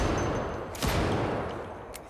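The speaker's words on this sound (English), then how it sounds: "You hear all of this bullet fire." Rapid bursts of gunfire crackle in Project Zomboid, with a sharp loud volley near the middle and another brief shot toward the end.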